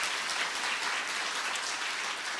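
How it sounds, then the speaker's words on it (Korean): Dense, sustained applause from a large crowd at a university president's farewell ceremony, loud and even throughout with no break. "다시 한번 큰 박수 부탁드립니다"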